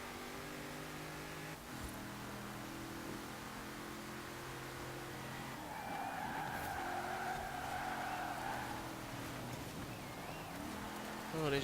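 A race car in Forza Horizon 4 on the Fortune Island DLC roars steadily as its engine note shifts through gears, with a long tire skid squealing midway, while someone talks over the driving.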